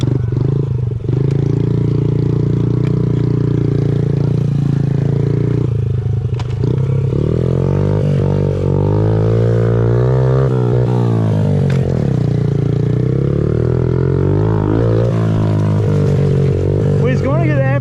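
A Honda CRF50 dirt bike fitted with a Big Gun exhaust, ridden in second gear, drones loudly and steadily, its engine note rising and falling as the throttle is worked in the middle of the run.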